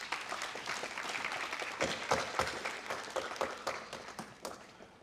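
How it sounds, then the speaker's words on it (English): A summit audience at the valedictory ceremony of the India Mushroom Summit 2023 claps to welcome a speaker to the stage, with a faint, sustained round of many hands and distinct sharper individual claps. "Please welcome him with a huge round of applause."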